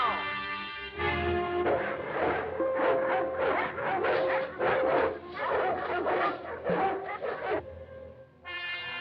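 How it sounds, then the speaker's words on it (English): Hunting dogs bay and bark in pursuit in a 1945 film, a dense, fairly loud run of overlapping howls and barks with music-like tones mixed in, pausing briefly before resuming. "I'll wait for the dogs."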